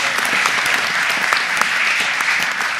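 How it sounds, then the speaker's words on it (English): A city council chamber breaks into a round of applause honoring a rapper, loud continuous clapping from a seated crowd with occasional sharper claps standing out. "Let's give him a round of applause for that."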